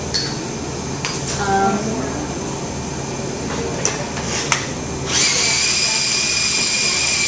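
A food processor chopping soaked nuts, a loud whirring motor with knocking and rattling of pieces against the bowl, a few sharp clicks, and a brighter, steadier grind in the last two seconds.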